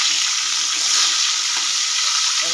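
Katla fish pieces frying lightly in hot oil give a steady, close hiss of sizzling that stays even and unbroken, with no voices.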